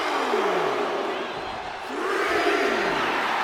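A roaring WWE wrestling arena crowd cheers and shouts in a loud, continuous wall of noise that swells and dips slightly, with rising chant-like yells.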